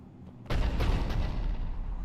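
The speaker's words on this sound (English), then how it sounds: "Looks like Cerberus got that cannon operational, Commander." In Mass Effect 3 on Tuchanka, a Cerberus cannon fires: a sudden heavy boom lands half a second in, then a deep rolling roar with a few crackling bursts sustains loudly to the end.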